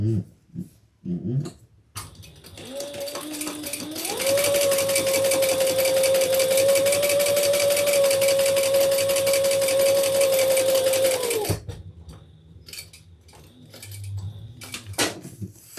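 A sewing machine stitches a handbag in one continuous fast burst of rapid mechanical clatter lasting several seconds, framed by brief handling knocks and quiet pauses before and after.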